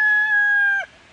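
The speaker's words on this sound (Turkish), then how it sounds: "horozumuz böldü konuşmamızı" A village rooster crows close by, one loud, clear, sustained call that cuts off sharply near the end and leaves quiet after it.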